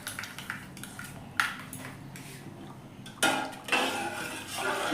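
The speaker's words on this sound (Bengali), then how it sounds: "একবার করে ফেটিয়ে নিচ্ছি। তো ওটাকে ভালো করে ফেটিয়ে নিতে হবে।" Whisking boiled milk in a metal pot for homemade white yogurt, heard as scattered metallic clinks and scrapes, with louder clattering strokes near the end.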